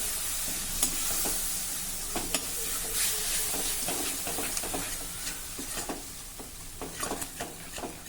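Ridge gourd with fresh yogurt and coriander is stirred continuously in a frying pan, a soft steady sizzle under repeated light scraping strokes, fairly quiet and without talk.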